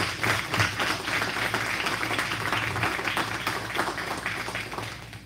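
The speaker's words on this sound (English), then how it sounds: "Let's start off by giving our student athletes a big round of applause" An audience at a student athlete recognition dinner applauds the student athletes, a steady round of clapping from a moderate distance that holds at an even level for the whole stretch, with a low hum underneath.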